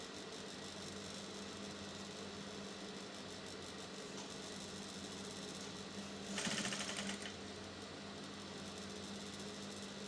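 Sewing machine stitching around the armhole of a flared umbrella-yoke blouse, running in a steady, continuous hum that swells briefly louder partway through, with no talk.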